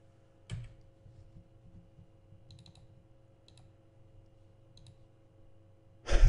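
Sparse computer mouse clicks during a card game, a few sharp taps spread over several seconds above a low steady hum, quiet and close, with a louder burst at the end.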